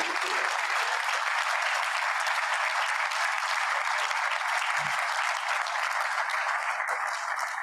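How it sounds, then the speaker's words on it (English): An audience at a Rotary Club meeting applauds steadily for several seconds, a dense, loud wash of clapping that carries on without a break. "So please join me in giving them a round of applause."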